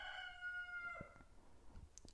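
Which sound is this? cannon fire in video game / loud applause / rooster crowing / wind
rooster crowing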